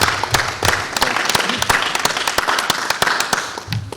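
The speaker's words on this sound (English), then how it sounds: "I'd like to give them a round of applause" A small group claps at a city council meeting, sparse uneven hand claps with a few sharp individual smacks, nearby and fairly loud.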